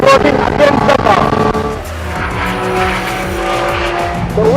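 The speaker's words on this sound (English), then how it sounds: "The way this mid-engine Porsche pivots around itself" A mid-engine Porsche race car on a racetrack, its engine note climbing and falling through gear changes with tyre squeal in the turns. The sound stays loud and continuous throughout, and a voice talks over it.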